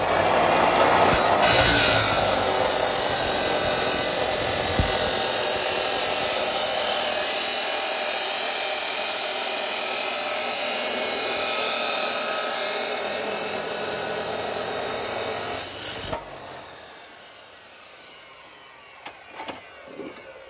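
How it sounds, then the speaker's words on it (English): An abrasive cutoff blade slices through a roll cage tube on a YJ Jeep, a loud, harsh grinding screech that holds steady for about sixteen seconds, then winds down and stops, followed by a few light clanks. "These abrasive blades, they're definitely not the most desirable, but if you're nice to them and you let them eat like they should, they make pretty quick cuts."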